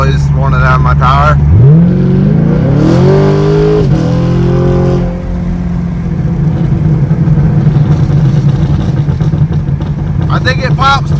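A Chevrolet Camaro with an LT1 V8 and AFM deleted revs up loudly nearby, the engine note rising and then settling into a rumbling idle with crackling exhaust pops, while excited voices talk over it.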